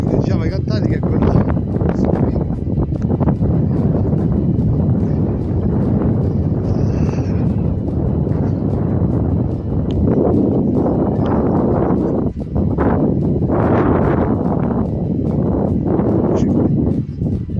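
Steady, loud wind buffeting the microphone on a mountain ridge near Monte Viglio, about 2,000 m up, a constant low roar with gusty surges throughout.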